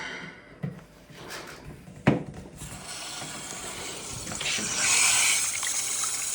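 Household water supply valve opened so water flows into the house pipes: mechanical clicks and a sharp knock, then a rising hiss and rush of water through the plumbing, growing louder toward the end.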